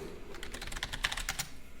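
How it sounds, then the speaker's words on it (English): Quick, faint clicking keystrokes on a computer keyboard in a rapid irregular patter, close and alone without speech. "Why do I keep typing NHL.com?"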